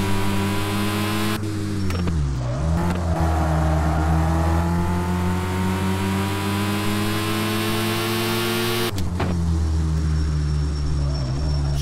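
A Nissan GTR R35 engine in the Car For Sale video game screams at high revs while out of control, a loud sustained drone with brief dips and surges around two and nine seconds.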